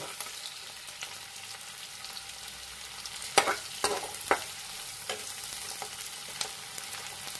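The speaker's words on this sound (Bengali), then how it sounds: "এবার আমি পেঁয়াজটাকে একটু নাড়াচাড়া করে নিচ্ছি। এটা ভাজা ভাজা হয়ে এসছে।" Onions and potatoes sizzle quietly and steadily in a pan, broken by a few sharp scrapes and clatters of stirring.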